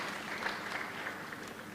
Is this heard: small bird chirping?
no